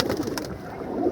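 Domestic pigeons kept for flying coo in low, soft, rolling murmurs, fairly close and continuous, with faint background noise and no talking.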